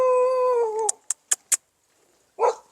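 A dog howls in a long, wavering tone, then gives four quick, sharp yips and, after a pause, one more bark, all close by in a quiet rural village setting.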